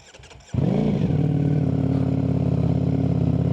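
Cold start of a 2025 Ducati Streetfighter V4 motorcycle with an Akrapovic slip-on exhaust: a short starter whir, then the engine catches abruptly and settles into a loud, steady, rumbling idle close by.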